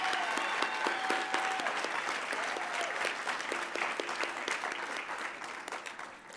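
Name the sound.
audience applause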